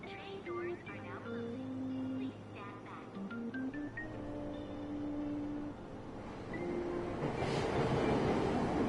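A subway train at Aoyama Ichome station in Persona 5 Royal, where a tinkling station melody and a spoken announcement sit over a steady rumble that grows into a loud rushing roar toward the close.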